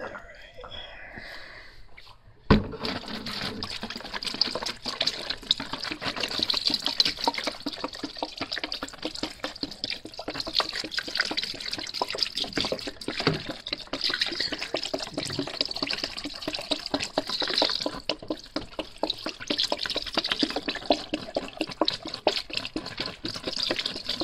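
Water pours steadily into a container to soak a crashed DJI Phantom 3 Pro drone after an alcohol rinse, a continuous close splashing fill that starts abruptly and runs on without talk.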